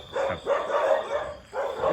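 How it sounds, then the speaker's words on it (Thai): Dog barks at night in a rural Thai village, close, loud repeated barks in quick bursts with short gaps between them. "หมาเห่าดีครับเนาะ"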